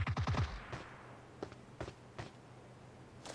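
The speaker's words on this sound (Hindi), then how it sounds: "फायरिंग हुई है" PUBG Mobile gunfire, a quick rapid burst of shots followed by a few scattered single distant cracks, fairly faint.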